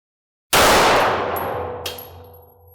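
A single sharp 9mm handgun shot fired with iron sights at a 25-foot indoor target cracks loudly and decays into range reverberation, followed by a faint metallic clink.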